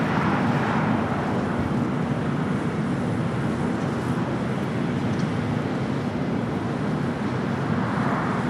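Hawaiian Airlines Airbus A330-200 heavy jet arriving at Los Angeles International Airport from Honolulu, a steady broadband engine roar holding constant and fairly loud across the whole stretch, with no voices.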